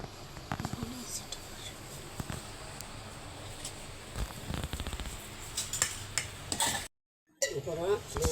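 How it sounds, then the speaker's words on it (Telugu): A metal pan is set down on a kitchen stove, giving a few sharp clanks and clatters amid quiet background noise, with talking heard through the clip. "స్టవ్ పైన దబర పెట్టాలా"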